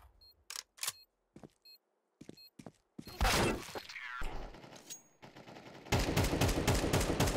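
Video game gunfire: a handful of crisp, separate shots with gaps between them, then a loud burst of rapid overlapping fire and clattering impacts, building to a dense, sustained volley at the end.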